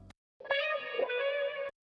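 A chopped guitar sample in an R&B production is played dry: a single sustained, slightly distorted tone rings for about a second, then stops dead with no tail.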